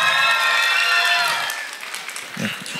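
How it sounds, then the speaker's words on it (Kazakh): A wedding crowd claps together in a burst of applause that fades within a couple of seconds, followed by scattered murmurs and voices in the room. "шапалақ!"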